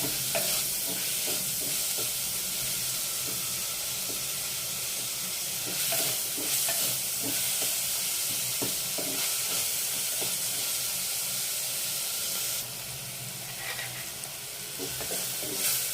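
Onions and tomatoes fry in a clay pot for mutton gravy curry, giving a loud, continuous sizzle with hissing steam and occasional stirring scrapes, and no one speaking.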